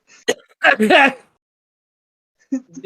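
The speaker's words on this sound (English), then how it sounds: "I just laughed and coughed at the same time." A person gives a sharp cough that runs into a short burst of voiced laughter, close and loud, followed by a pause and then quiet talk.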